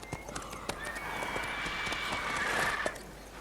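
Hooves clip-clop on a horse in The Witcher III, a quick series of sharp clear hoofbeats over soft ambient background, with a faint high tonal whine through the middle.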